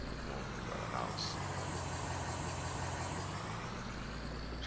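A truck engine drones steadily in Farming Simulator on the Lakeland Vale map, a low constant rumble with a brief air-brake hiss early on, faint under a speaking voice.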